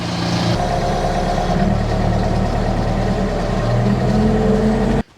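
A troublesome riding mower named Manny runs steadily after finally starting, its engine holding an even, loud idle for about five seconds before cutting off abruptly.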